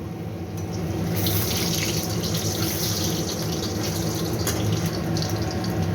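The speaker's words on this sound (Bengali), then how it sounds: "এইভাবে আমি সব বলগুলোকে আস্তে আস্তে করে কম আঁচে ভেজে নেব" Chicken pakora balls fry over a low flame in oil in a kadai, giving a steady, moderately loud hissing sizzle that rises slightly after the first second and holds.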